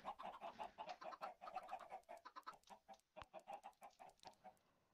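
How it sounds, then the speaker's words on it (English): Blocky Minecraft chickens spawned inside a house cluck in a steady stream of short, repeated calls that overlap and stay close and clear, with no talking over them. "I'm just gonna spawn in some chickens over here."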